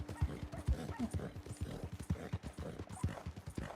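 Horse hooves clip-clop in a steady, even rhythm while riding in Red Dead Online, a crisp, fairly close series of repeated hoofbeats on the road with light background ambience and no talk.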